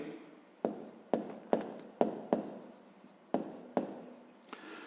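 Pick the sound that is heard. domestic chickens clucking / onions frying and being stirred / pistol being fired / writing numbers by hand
writing numbers by hand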